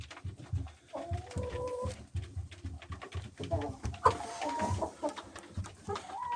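Hens clucking in a henhouse where they lay eggs, soft close clucks and short calls scattered across the clip among rustling, with faint talk in the background.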